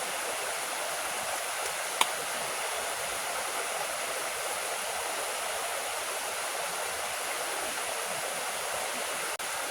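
Water flows steadily along a stream during an outdoor solo adventure, a constant broadband rush with no breaks, with one faint click near the start.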